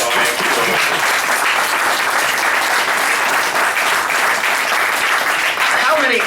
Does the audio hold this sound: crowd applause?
yes